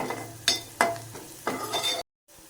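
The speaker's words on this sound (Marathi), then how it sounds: "आपला घरचा मसाला चांगला तेलामध्ये फ्राय करून घ्यायचा" Homemade spice masala frying in oil with a little turmeric, stirred with a spoon that scrapes the pan in several distinct strokes over a steady sizzle. The sizzle cuts out briefly near the end, then returns more quietly.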